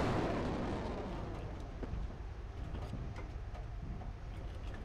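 Panzerwerfer 42 rocket shells exploding in War Thunder: a dense, sustained rumble of blasts and booms, loud at first and then easing into continuous low thunder with scattered sharper bursts.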